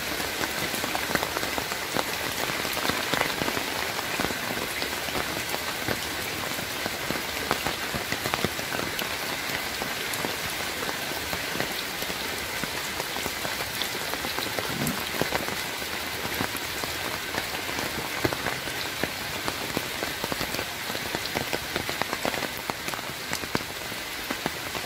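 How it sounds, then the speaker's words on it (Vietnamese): Heavy rain pours steadily on a rubber plantation, a dense, even hiss of drops hitting leaves and surfaces up close, continuous with no voices. "Đây trời đang mưa rất là lớn."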